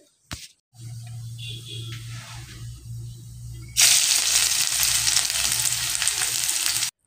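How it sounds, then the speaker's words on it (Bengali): Black cumin seeds frying in hot oil, a faint quiet crackle at first, then a sudden loud, continuous hiss as the sizzle swells and holds to the end. "একটু ভেজে নেব তেলের উপরে কালো জিরেটাকে।"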